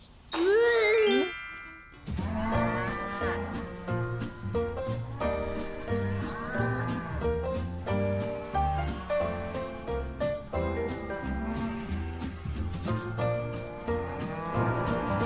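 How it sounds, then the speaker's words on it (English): One long, loud cow moo sounds at the start, followed by cheerful music playing steadily for the rest. "Yes, you're a lovely cow"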